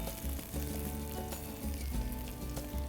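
Dry red chili, curry leaves and shallots sizzle in hot oil for a Karnataka-style bisi bele bath tempering, a steady close crackling hiss with faint pops, heard alone.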